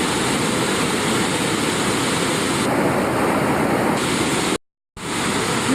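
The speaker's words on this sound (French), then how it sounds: "là on a découvert une petite cascade qui va faire du bien" A small waterfall in the Luang Prabang region of Laos gives a loud, steady broadband rush of falling water, close and continuous, with no voices over it.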